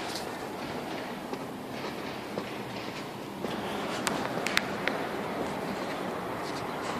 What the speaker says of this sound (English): Here we go to catch the light train from here.